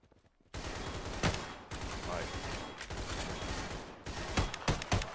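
Rapid bursts of video game gunfire ring out in Garry's Mod during a police versus zombie walkers fight, loud and continuous with sharp individual shots standing out.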